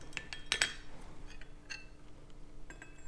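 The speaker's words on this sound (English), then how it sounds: "A little stir." Spoon stirring pumpkin spice tea in a cup, several light metallic clinks against the ceramic, the brightest early on and a few fainter taps later, close and quiet with no talk.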